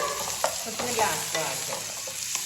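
Curry leaves sizzling in hot oil in a pan for egg curry, a continuous frying hiss with scattered stirring clinks and scrapes, no talk.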